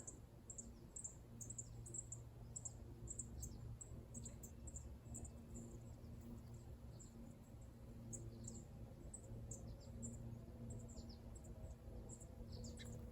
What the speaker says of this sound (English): There are tons of little bird buddies. They're just peep, peep, peeping everywhere.